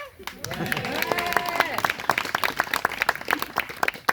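A comedy club audience at a stand-up show breaks into applause after a brief bit of voice, scattered claps building into quick, uneven clapping that continues to the end.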